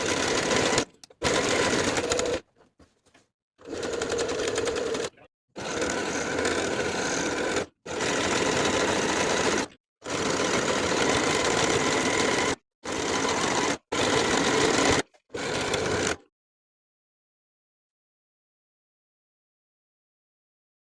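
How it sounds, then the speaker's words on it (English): A sewing machine edge stitches around a denim skirt waistband in repeated bursts, each run a steady mechanical whir broken by short pauses, then silence for the last few seconds. "I'm going to edge stitch around the entire perimeter of the waistband."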